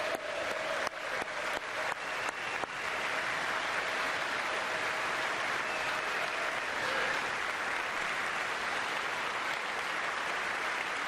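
An audience bursts into sustained, dense applause, with a few sharp early claps before the clapping settles into a steady, loud wash that continues throughout.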